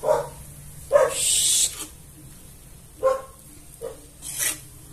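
A dog barks several times nearby in short, irregular bursts, with quieter pauses between; a sizzling hiss sits briefly underneath.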